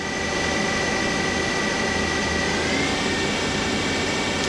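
Feeler HT 30Y CNC turning center with its main spindle running up through increasing RPM, a steady loud machine whine with rising tonal lines over a constant broadband hum, no talking.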